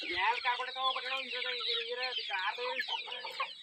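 Free-range country chickens on a rural farm cluck and murmur close by in a continuous, busy chorus of short, rising and falling calls.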